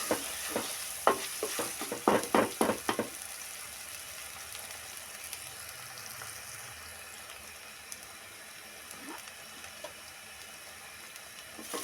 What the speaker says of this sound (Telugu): అల్లం వెల్లుల్లి పేస్ట్ బాగా పచ్చి వాసన పోయేంత వరకు వేగాలండి ఇలా కలుపుకుంటూ ఉండాలండి